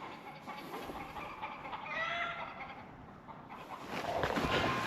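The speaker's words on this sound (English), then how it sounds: "Chickens are going crazy." Chickens cluck and squawk excitedly at moderate distance, over a steady low rumble of background noise.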